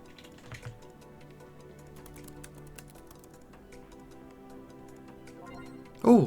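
Quick keyboard typing in the visual novel game Angels With Scaly Wings, a run of light clicking keystrokes close up, ending with a louder burst of sound.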